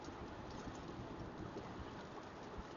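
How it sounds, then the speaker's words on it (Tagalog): Steady rain falling outdoors in Canada, a dense even hiss that stays constant throughout at a low level, with no voices. "umuulan na."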